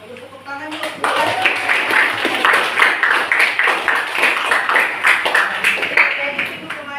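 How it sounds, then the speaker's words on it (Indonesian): Students in a classroom clapping together for a classmate, a fairly close burst of hand claps that starts after a moment of quiet and holds for several seconds before thinning out. "Bagus, tepuk tangan dulu."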